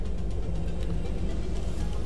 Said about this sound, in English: Sorry for that loud truck sound.